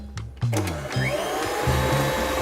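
Electric hand mixer creaming butter for white chocolate chip cookie dough, a steady close motor whir with repeated pitch dips and surges as the beaters work through the dense mixture, no talking.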